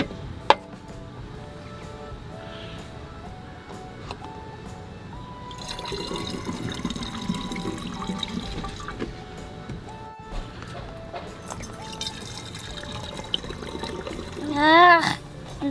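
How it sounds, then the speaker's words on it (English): Vinegar is poured into a bottle for a baking soda balloon experiment, a soft gurgling trickle that swells in the middle among faint household noises. "First step, we gotta put the vinegar in the bottle"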